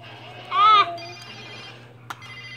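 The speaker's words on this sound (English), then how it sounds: "It's for you, Spider-Man. Telephone." A telephone rings once in a short, bright electronic burst, close and loud, followed by a quiet room tone and a brief click.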